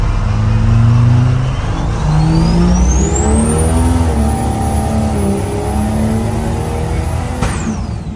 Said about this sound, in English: we're starting our next log, which is gonna be wide open throttle